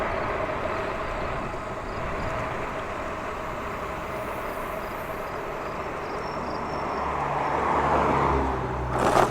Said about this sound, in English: got a car coming up on me